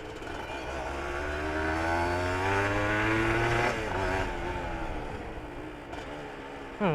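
A Honda NSR 150 RR motorcycle with its stock split exhaust revs up close by, the engine pitch climbing and holding loud before dropping back to a lower, rougher idle.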